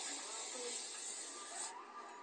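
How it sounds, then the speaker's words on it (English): Cream of Nature argan oil replenishing spray sheen is sprayed onto natural hair in one close, continuous aerosol hiss lasting under two seconds before it cuts off. "And I'm just going to spray a little bit on it."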